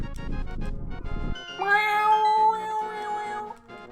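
A pet cat meows loudly and close by in a drawn-out, wavering call lasting a couple of seconds, after a short burst of other noise at the start.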